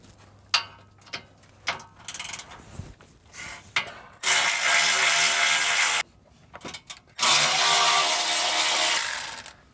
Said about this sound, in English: So the next step is to remove this 13mm bolt on both sides of the van.